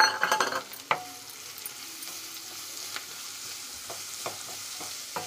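Grated carrot and softened onions sizzle in a pan while being stirred, with a few sharp scraping stirs at the start and then a steady close frying hiss and occasional utensil clicks.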